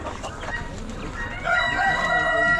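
Chickens crow and cluck loudly at a bird auction, a rooster's drawn-out crow rising over busy nearby clucking.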